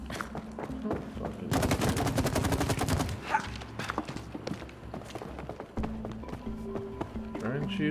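Bursts of rapid video-game shooting at a target in It Takes Two, a dense rattling volley in the middle and scattered shots around it, mixed with game effects and players talking.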